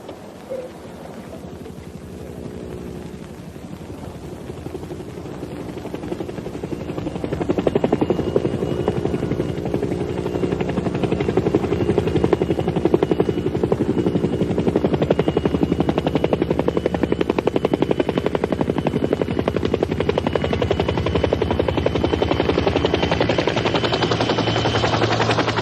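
A helicopter is heard approaching over a remote monastery setting, its rotor thrum building from moderate to loud and steady rumbling by the midpoint, holding close and heavy to the end with no talk.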